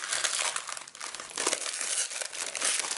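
Protective plastic wrap being peeled off a music album, a loud close crinkling and crackling that runs continuously for a few seconds with brief tearing bursts.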